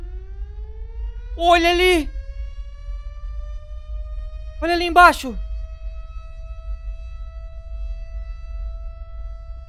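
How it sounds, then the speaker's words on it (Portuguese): A siren in GTA 5 warning of a tsunami wails, rising and then holding a steady tone throughout, with a low rumble beneath and excited voices shouting twice over it. "essa sirene barulhenta!"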